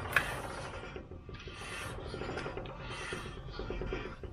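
A Ford F-150 EcoBoost parking brake rubs as the wheel turns, making a steady, close, rasping scrape that repeats in a rough rhythm for several seconds with no voices.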